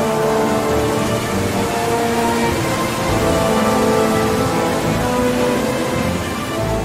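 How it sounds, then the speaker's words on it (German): Steady, dense rain in a polar landscape near freezing, turning to a graupel shower of tiny ice pellets; a continuous broadband hiss that stays loud and even throughout, with no voices. "Bei Temperaturen um die 0 Grad wird aus Regen Graupelschauer."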